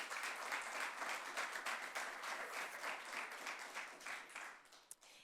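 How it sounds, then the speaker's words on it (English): A small audience at a talk on researching the city gives a brief round of applause, soft, distant clapping that carries steadily for a few seconds. "a little applause there as well"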